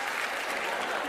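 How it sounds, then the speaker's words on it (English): Studio audience at a magic competition show clapping in a steady, dense wash of applause, fairly loud and continuous throughout, no distinct voices above it. "Give Teller a big round of applause"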